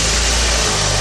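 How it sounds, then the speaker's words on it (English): A car engine running loud and close, a steady droning hum with low-pitched tones that shifts slightly partway through, with no voices over it. "you get into your vehicle, you fire up the engine,"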